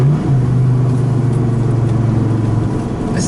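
A supercar engine drones steadily from inside while driving, a loud, low, even tone that drops slightly in pitch, with no voices.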